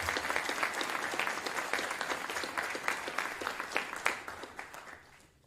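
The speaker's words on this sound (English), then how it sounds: "Please give a round of applause for all the candidates present here tonight." Steady audience applause in a university auditorium at a mayoral candidate forum, sustained crisp clapping from a sizable crowd that tapers off in the final second.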